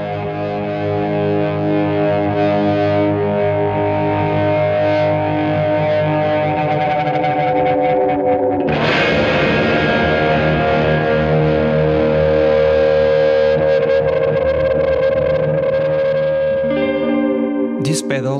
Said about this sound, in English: Today, I bring you my latest creation, the lo-fi tape delay.